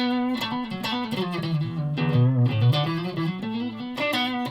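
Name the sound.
electric guitar through Joyo British Sound distortion pedal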